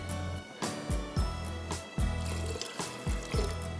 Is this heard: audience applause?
no